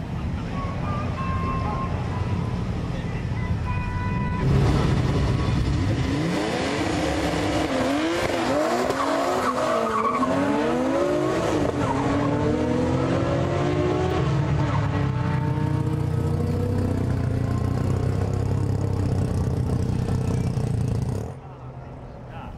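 HKS-built drag race cars, including turbocharged Japanese machines, launch at a 2001 street drag event at T.I. Central, with loud sustained engine roar rising through the gears and tire squeal, ending abruptly.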